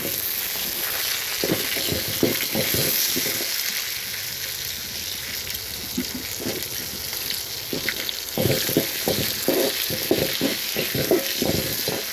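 Chana dal and chopped onion frying in a pan of oil for kara chutney, a steady sizzle throughout with intermittent scraping and stirring knocks, close and moderately loud, no voices.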